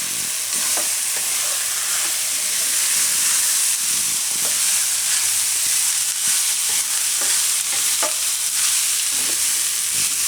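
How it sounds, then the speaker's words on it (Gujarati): Cooked rice gets stirred into sprouted fenugreek pulao in a hot pan, giving a steady close sizzle with scattered scraping and stirring clicks throughout and no talking. "હવે આપણે એમાં ભાત નાખી દઈએ. અને મિક્સ કરી દઈએ."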